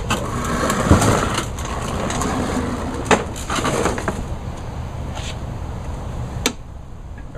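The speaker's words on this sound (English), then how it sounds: "I'm going to pull over the engine until the needle will stop moving" Lawnboy 10323 mower engine turned over repeatedly by its pull starter, a steady churning rumble with sharper clicks and knocks, fairly close and continuous throughout.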